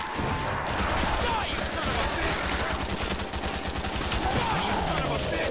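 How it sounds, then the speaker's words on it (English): Constant rapid gunfire from a weapon in a Call of Duty Zombies custom map, loud and unbroken throughout, with an occasional voice faintly beneath the shooting. "This is what this gun is for. Just non-stop shooting."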